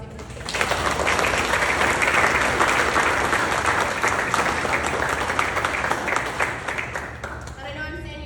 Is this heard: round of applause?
yes